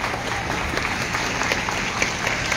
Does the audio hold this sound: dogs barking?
no